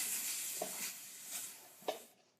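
Gas hisses steadily from the adapter on a gas bottle for an Orca torch, a close, faint continuous hiss with a couple of small metallic clicks as the valve is handled.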